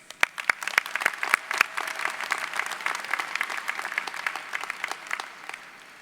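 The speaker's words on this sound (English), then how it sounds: "Let's give a round of applause to mine and to yours." Applause fills the hall at a 2019 College of Community and Public Affairs commencement ceremony, with a few loud individual claps at first swelling into dense, sustained clapping from a large audience, with no speech over it.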